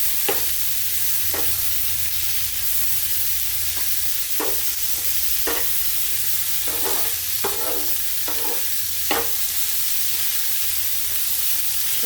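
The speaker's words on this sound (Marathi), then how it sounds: "आता नरम पडेपर्यंत आपण टोमॅटो परतून घेऊ" Tomatoes stirred and sautéed in a pan for a mixed vegetable dish, a steady frying sizzle with repeated scraping strokes of the spoon over about twelve seconds, close and fairly loud, with no talking.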